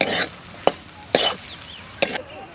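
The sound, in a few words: stirring and sautéing potato filling in a pan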